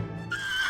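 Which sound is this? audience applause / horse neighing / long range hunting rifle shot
horse neighing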